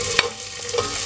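Chopped onion sautéing in hot olive oil in a pot, a short burst of steady sizzling with a few sharper scraping stirs, close and clear with no talking.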